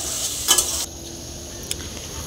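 Ghugni of kabuli chickpeas and potato cooking in a pan for breakfast, with a short burst of stirring and sizzling near the start, then a low steady hiss and one small scrape later.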